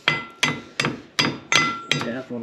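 Six sharp metallic hammer taps on stuck wheel bearing parts of a Polaris General 1000 UTV, evenly spaced and ringing briefly, close and loud with no talk.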